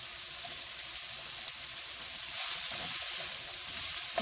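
Ingredients for chicken Alfredo sautéing in a pan, giving a steady, fairly quiet sizzle with a broad hiss that runs evenly throughout, with no talking.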